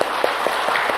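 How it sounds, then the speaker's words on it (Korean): A church congregation claps together in praise during a Sunday service, a fast, steady patter of many hands forming a dense, even applause in the room with no voices over it. "영광의 박수를 주님께 돌리십시다."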